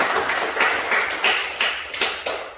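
A church congregation claps to encourage a teacher after a Sunday service, a run of fairly loud, evenly spaced clapping bursts with no talking over them.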